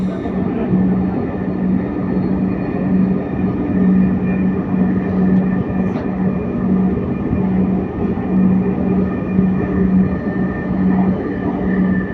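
A metro rail train runs through Uttara Center station, giving a steady, loud rumble with a low hum and faint rail noise. It stays constant throughout with no voices.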